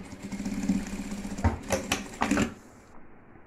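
Sewing machine running in short bursts while topstitching a seam on an expandable fabric toiletry box, with several quick stops and starts before falling quiet.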